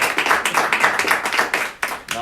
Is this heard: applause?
yes